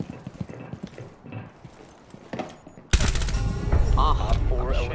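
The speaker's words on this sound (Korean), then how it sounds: "또 발소리." Rhythmic footsteps thud in a first-person tactical shooter, then loud sustained gunfire abruptly takes over, with players talking over the game audio.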